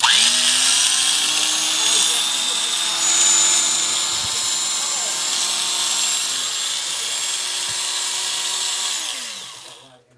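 An electric drill runs steadily for about nine seconds, with a sustained motor whine that spins up at the start and winds down at the end, loud and close with no talk.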